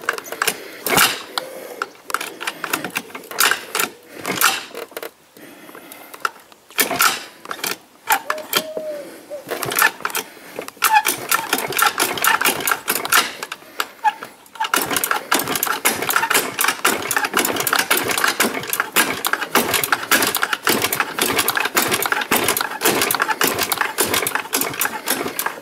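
A Honda X8R-X scooter engine being kickstarted, with repeated rapid mechanical clatter and sputtering bursts, then a steadier fast rattling run, close by, with someone talking at times.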